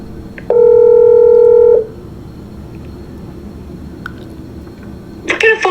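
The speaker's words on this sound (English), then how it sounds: "What kind of phone rings that long?" A single electronic telephone tone sounds steadily for just over a second in a quiet Denver International Airport terminal late at night, followed by a low background hush and a short burst of noise near the end.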